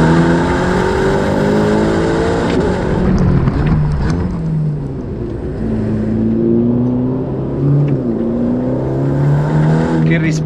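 A Ferrari Roma's engine revs and pulls through the gears, its rising and falling engine note loud and close inside the car, with someone talking over it.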